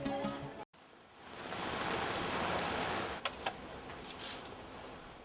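Steady rain falls at a house construction site in the Philippines, a dense continuous hiss with a brief dropout early on and a couple of sharp knocks midway; no talking.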